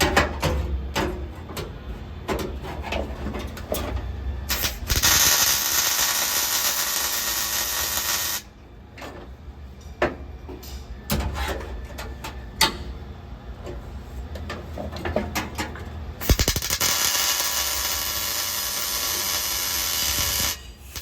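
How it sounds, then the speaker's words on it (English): Spot welding on steel toe boards makes repeated bursts of loud, steady crackling hiss, each lasting several seconds and separated by short quieter gaps, heard close up. "now we'll do our spot welds"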